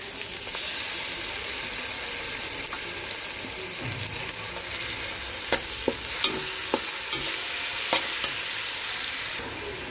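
Koi fish frying in a pan with onion and garlic paste, a steady bright sizzle running throughout with scattered clicks of stirring, fairly close and alone.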